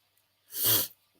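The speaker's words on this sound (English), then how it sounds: "I'm still sneezing a lot" One short, loud sneeze bursts out close up, with a breathy release that fades fast into near silence.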